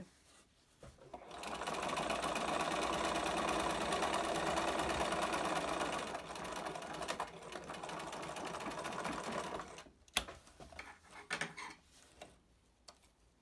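A sewing machine stitches the closed edge seam of a fabric mask with a filter, running in a long, steady close whir, then slowing into short bursts and stopping.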